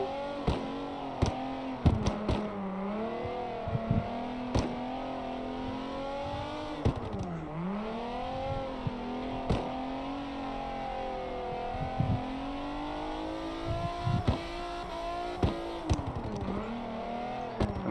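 Engine of a car drifting downhill in the CarX Drift Racing Online game, played on a wheel: continuous revving with rising and falling pitch, tire squeals and sharp clicks throughout, loud and close with no talk.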